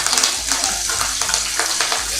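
A tempering of mustard seeds, chana and urad dal, dry chillies and curry leaves fries in hot oil, giving a close, continuous sizzle and crackle with light stirring scrapes throughout.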